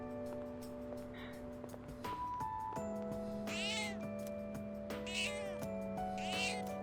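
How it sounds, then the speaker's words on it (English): Cat meowing in the video game Persona 3 Reload, three drawn-out, clear meows over a game music bed with soft tones, no talk. "Oh, the cat! The cat! The cat!"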